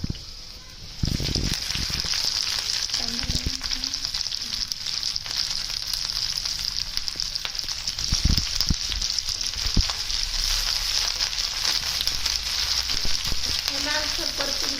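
Garlic and onion fry in a pan for a paneer chilli dish, a steady loud sizzle running throughout, with a few scraping stirs and clinks of a utensil against the pan.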